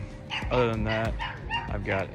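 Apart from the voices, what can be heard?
dog barking in the background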